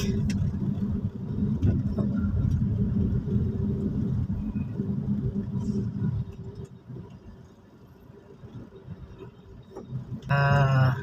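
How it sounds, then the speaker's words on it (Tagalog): Slow road traffic on a city street approaching a bridge, with a steady low rumble of car engines close by that eases off midway. A brief mechanical whir rises near the end. "medyo traffic medyo may volume ng traffic."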